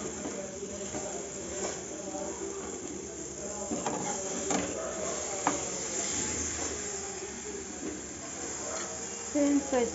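Eggplant slices for baingan bhaja sizzle in oil in a pan over a low flame, a steady crackling hiss with scattered pops running throughout.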